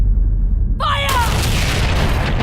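Cannon fire from the Skull and Bones video game trailer: one deep, loud boom lands about a second in, preceded by a brief whistling streak and followed by a sustained rumbling roar.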